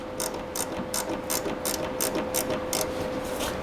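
A hand ratchet turns a bolt on a motorcycle fuel tank, giving about ten crisp, evenly spaced clicking bursts close up over a faint steady hum, with no talking.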